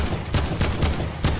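Gunfire in the Fortnite video game, four loud sharp bursts of shots fired in quick succession at roughly even intervals, close and dry with no talk over them.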